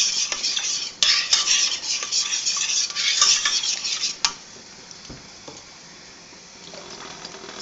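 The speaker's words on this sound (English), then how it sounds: "you really need to keep stirring it" A thickening white sauce for tuna mornay is stirred briskly in a pot, the spoon scraping and clinking close by for about four seconds, then going quieter with faint occasional taps.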